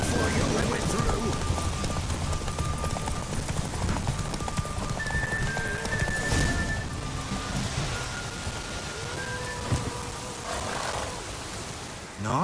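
A horse gallops in a race in The Witcher 3, its rapid hoofbeats drumming steadily through the clip alongside game music and ambient sound, close and prominent, while a voice speaks briefly over it.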